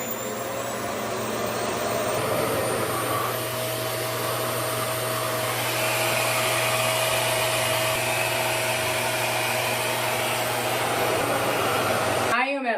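A RevAir hair dryer runs at its high setting, a loud, steady whine with a broad whoosh that holds for the whole stretch and stops abruptly at the end.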